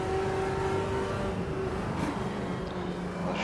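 A Chevy Chevette engine in the Automobilista 2 racing game at Interlagos, droning at a steady, loud pitch that holds and then shifts slightly as the car works through a corner, with no talk.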